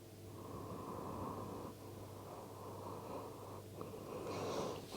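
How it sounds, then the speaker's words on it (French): During a yoga session, a person draws one long, slow, deep breath, steady and close, then lets it out with a soft airy rush, alone against a low background hum. "Prenez une dernière respiration."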